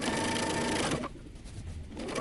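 A sewing machine stitches a dress seam, its close rapid whirring running steadily, then dropping in level partway through and continuing more quietly.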